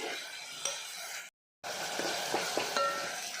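Tomatoes fry in a pan while being mashed down, giving a soft steady sizzle with light stirring scrapes and clinks, close and quiet, broken by a brief gap of silence.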